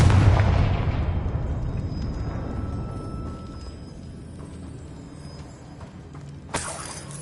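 A Confringo explosion spell in a Harry Potter game bursts with a loud, shattering blast right at the start, then fades into a long crumbling rumble, ending with a sharp crack.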